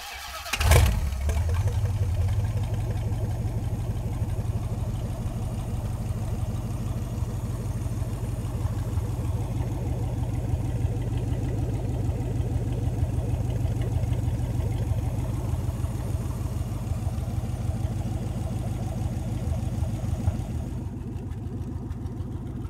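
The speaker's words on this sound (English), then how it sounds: "Let's fire this Hemi up." A Hemi V8 in a 1930 Ford five-window coupe street rod cranks and fires with a sharp burst, then settles into a steady, rumbling idle that continues throughout, close and alone.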